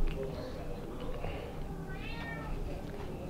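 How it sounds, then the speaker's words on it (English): A cat meows indoors, a brief mewing cry rising over a steady background while someone talks. "Get that cat out of my room."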